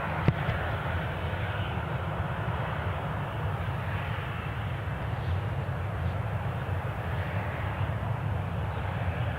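A passenger jet taxis out at Newcastle International Airport, its engines giving a steady, even roar that holds without pause at a moderate distance.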